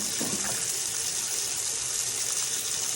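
Hot tap water runs steadily from a faucet while dishes are washed, a continuous near gushing hiss that holds evenly for the whole stretch with no voices over it.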